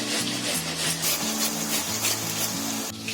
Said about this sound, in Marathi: टोमॅटो आपल्याला किसायची आहे